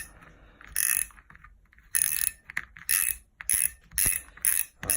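Fishing reel part being screwed back down by hand after cleaning, giving a series of close, crisp ratcheting clicks in short regular bursts with brief pauses between turns.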